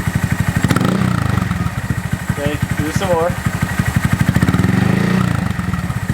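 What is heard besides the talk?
Honda Monkey motorcycle engine revving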